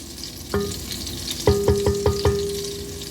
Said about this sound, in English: All right, so my butter has melted.